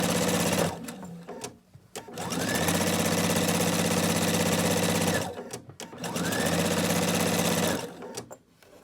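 A sewing machine stitches cloth napkins in two long, steady runs of rapid, even mechanical whirring, each broken by a short pause as the fabric is pivoted and turned. The machine is close and fairly loud.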